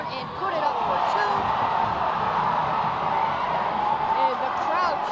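A high school basketball crowd roars after a play at the Hoophall Classic, a loud steady wall of cheering and whoops in a gym, with sneaker squeaks and a commentator talking over it.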